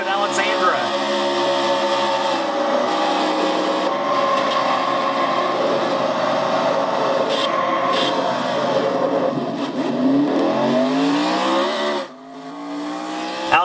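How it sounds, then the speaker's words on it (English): Onboard engine roar of a Dodge Challenger race car in a Castrol GTX Cup Series race, loud and sustained at speed with shifting pitch, briefly dropping near the end before picking back up. "You want to know what the 100 mile an hour slide feels like? Let's go on board with Alexandra Jones"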